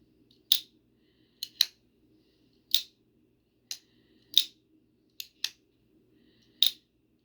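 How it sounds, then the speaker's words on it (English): A clicky fluted titanium Ram-Lok folding knife flicked open and shut, sharp crisp snaps arriving singly and in quick pairs against a quiet background, close and distinct. "This is even clickier and louder."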